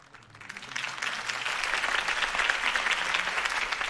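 Crowd applause rises after a campaign speech in Batman: The Telltale Series, swelling within the first second into dense, sustained clapping that holds steady throughout.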